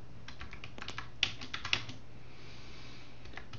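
Light, quick tapping on a computer keyboard while typing a chat message during an online poker coaching session, a close burst of soft clicks that thins out into a quiet room hum.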